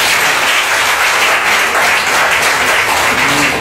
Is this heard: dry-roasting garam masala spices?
no